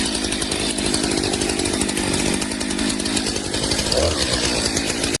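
A chainsaw trims a reclaimed, pre-peeled log for a cabin wall in deep winter, running loud and steady the whole time at close range. The engine note is continuous with no pauses, then cuts off abruptly at the very end.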